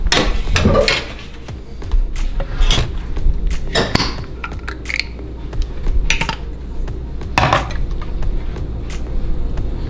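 Cooked waffles being set down onto a metal pizza pan, a series of irregular clattering knocks and scrapes against the metal with quieter handling noise between them.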